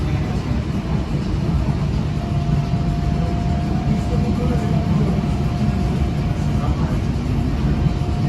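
A night train in Lagos rides the rails with a loud, steady rumble and clatter that holds throughout, with a faint whine running through the noise.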